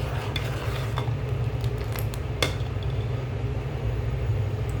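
Fruit custard mixture is stirred in a pot over medium-low heat, a close steady scraping and swirling with a low rumbling bubble underneath and a few light metallic clinks, no speech.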